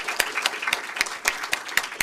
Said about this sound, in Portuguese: professor Linaldo Cavalcante, que merece todos os nossos aplausos,